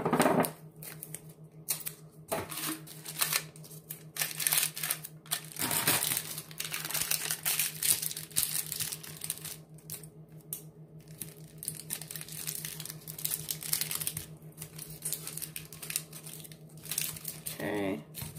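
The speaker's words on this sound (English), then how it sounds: "And what I'm going to do is tape the bottom." Tape and sublimation paper crinkle and rustle while being fitted around the bottom of a 20 oz tumbler, with irregular close crackles and tearing sounds over a low steady hum.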